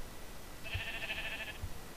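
A single sheep bleat from the Minecraft video game sounds once, a short wavering tone lasting about a second over quiet background with soft thumps.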